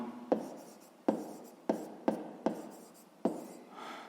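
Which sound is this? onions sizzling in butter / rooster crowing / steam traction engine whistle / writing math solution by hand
writing math solution by hand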